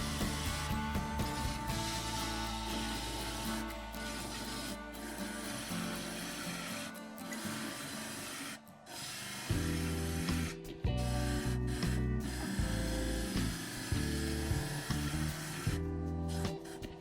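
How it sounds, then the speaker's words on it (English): A wood-turning gouge is resharpened, a continuous harsh abrasive rasp with a steady low hum that stays loud and close, broken by a few brief pauses and changes in pressure. "I'm going to resharpen my gouge again."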